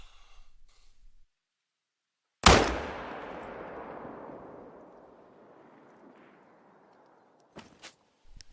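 A single loud rifle shot rings out on a remote African mountainside in theHunter: Call of the Wild, followed by a long rolling echo that fades over several seconds, with faint clicks afterward.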